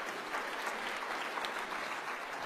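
An audience at a cancer symposium breaks into steady, even applause, a dense wash of clapping that holds at the same level throughout.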